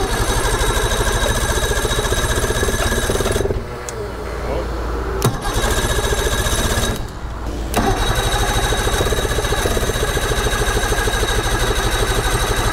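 An Evinrude 60 two-stroke outboard runs loud and steady, dipping briefly around the middle before returning to a full, constant drone.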